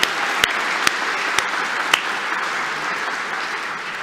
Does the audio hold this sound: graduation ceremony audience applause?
yes